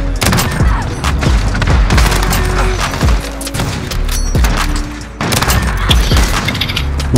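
Loud booming gunshots from Modern Warfare sniping, a string of heavy reports with thuds between them, close and dense with little pause.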